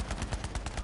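Rapid automatic gunfire in the video game Borderlands 3, a steady rattling burst of about eight evenly spaced shots, loud and close, with no talking over it.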